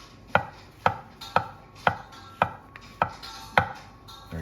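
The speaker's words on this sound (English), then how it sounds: "continue until all your mushrooms are diced up" A knife dicing mushrooms on a cutting board: seven crisp, evenly spaced chops about half a second apart, close and clear, with a softer scrape at the end and no talking.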